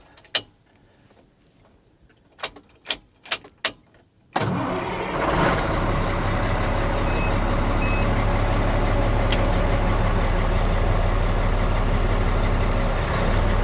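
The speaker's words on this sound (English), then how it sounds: "That's the PTO engaging." Dump truck PTO engaging: a few sharp mechanical clicks, then a sudden loud, steady engine and hydraulic drone that holds at an even level to the end, close by and with no talking.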